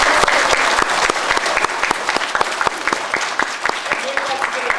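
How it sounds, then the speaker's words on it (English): An audience claps steadily for several seconds after a rangatahi (youth) performance, a dense, even round of applause with a few sharper individual claps standing out. "Please give everybody who performed for you today another round of applause."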